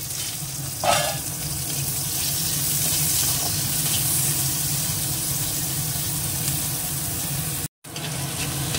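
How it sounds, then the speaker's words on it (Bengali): Chopped onions sizzle in hot oil in a home kitchen pan, a steady crackling hiss with a brief utensil clatter near the start and a momentary dropout near the end, no talking. "তেলটা গরম হয়ে গেছে, পেঁয়াজ কুচোনোটা দিয়েছি"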